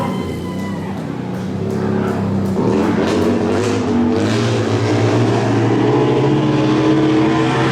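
A BMW race motorcycle from the VRP team roars past at a fairground race near the finish, its engine a loud sustained whine with shifting pitch and a steady drone from other machines beneath.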